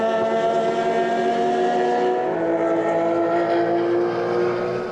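Race cars of the T5 category cross the finish line at the Estoril circuit during an Open Velocidade race, with a loud, sustained engine roar and steady droning tones close by.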